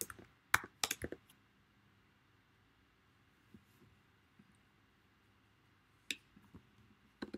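Computer keyboard keys clatter in short bursts of quick clicks while a JavaScript function is written, with quiet gaps between the bursts and a soft background hum.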